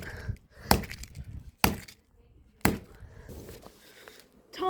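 Glass shattering as an Amazon Fire tablet is smashed, three sharp cracking impacts spaced about a second apart with debris settling in between, close and loud.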